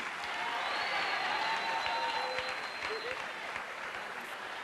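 Steady applause from an audience fills a graduation commencement ceremony for an adult education class, dense continuous clapping with crowd murmur throughout, loud and sustained.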